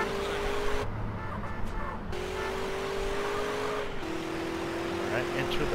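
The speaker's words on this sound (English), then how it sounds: "we're en route in the armored truck" Armored truck driving through the streets in Grand Theft Auto: San Andreas, a steady engine drone with road noise and a few brief cutouts, under a voice talking.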